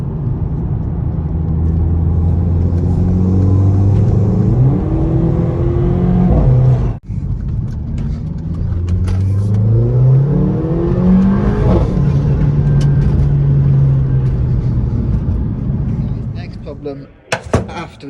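A Nissan R33 Skyline, sitting abandoned for over three years, revs loudly in a garage, engine pitch sweeping up and down through several throttle blips, with a sharp cut midway and speech mixed in.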